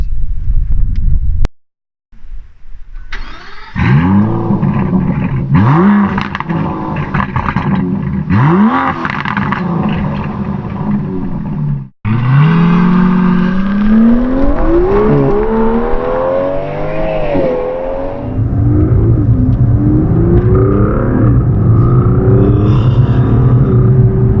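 An Aston Martin DB11 AMR with a 5.2-liter twin-turbo V12 accelerates hard through its exhausts, loud and close, rising through several gears with sharp shift breaks, then settling into a steady drone.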